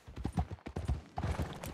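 Horse hooves clip-clopping in Red Dead Redemption 2, a quick run of soft rhythmic thuds at a trot, fairly faint and close, with no talk over them.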